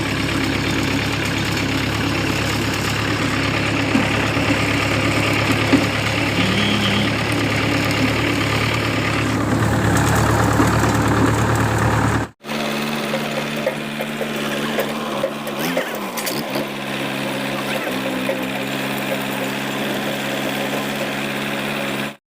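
A tractor engine idles steadily with a constant low rumble and vibration, its tone shifting abruptly midway as the recording cuts and the running continues without pause.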